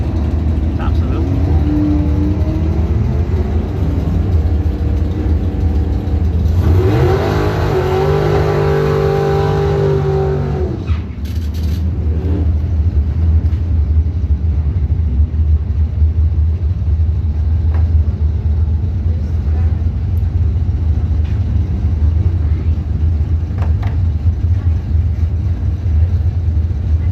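Camaro cars at a Chevrolet drag racing event rev and accelerate, with a loud full-throttle run in the middle of the clip. A race announcer talks throughout over steady engine rumble.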